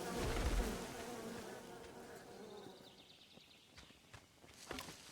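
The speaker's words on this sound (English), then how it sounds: "I was not expecting the bees." Bees buzzing in the Len's Island survival game, a steady insect drone present throughout, fairly close and moderately loud, with some game ambience and a few soft clicks.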